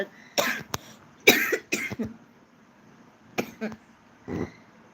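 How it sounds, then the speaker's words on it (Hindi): Several harsh coughs in short bursts, a pair early on, then a cluster, and a few more later, close by with quiet gaps between. "खांसी हो गई"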